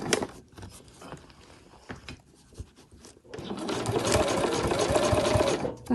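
A sewing machine stitches a handmade travel wallet, running in short bursts at first with pauses and slow stitching, then a continuous faster run of close, steady mechanical whirring and needle clatter.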